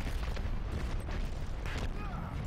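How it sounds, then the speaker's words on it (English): Heavy airstrike blasts in a competitive first-person shooter match, a dense, sustained rumble of explosions filling the whole clip. "Panic airstrike."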